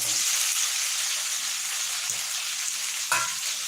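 Potatoes sizzle steadily in hot oil with chilies over a low gas flame, a continuous bright hiss with one brief clink from a utensil near the end.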